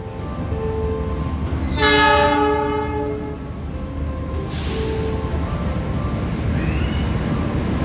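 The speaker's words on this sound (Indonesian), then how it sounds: "Kedatangan kereta api hari ini dari stasiun Bandung masuk di jalur 2" The Harina train from Bandung pulling into Surabaya Pasar Turi station on track 2, a continuous rumble of rolling cars broken by one loud horn blast near the start, with no talking.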